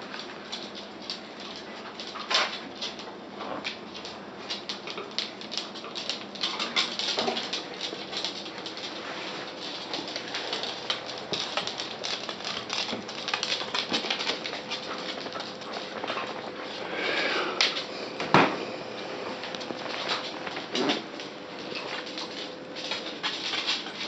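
A West Highland White Terrier puppy growls and grumbles softly and almost continuously up close, with occasional whimpers and light rustling.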